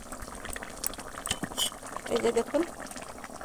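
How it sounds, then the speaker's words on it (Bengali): Sea fish curry with potatoes boils in a pot, bursts of bubbling and liquid glugs close by, while a person speaks briefly over it. "মাছটা দেওয়ার পরেও আরও 2 মিনিট মতো ফুটিয়ে নিলেই রেডি হয়ে যাবে।"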